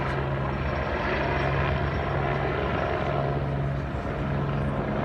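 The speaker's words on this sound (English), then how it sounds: "As you can see, the helicopter flew over." Steady droning rotor and engine noise of a helicopter flying over Coronado High School in Henderson, Nevada, a constant loud whir with no talking.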